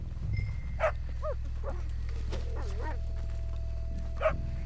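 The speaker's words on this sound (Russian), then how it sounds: "Там собака лает." In Red Dead Redemption 2 a dog barks a few times at a distance, short yips spread across a steady low hum of ambience.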